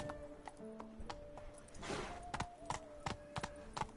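Roach, the horse in The Witcher video game, gallops with steady rhythmic hoofbeats over a game soundtrack of sustained musical tones, moderately loud throughout.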